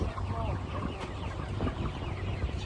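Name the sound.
chickens clucking at a chicken farm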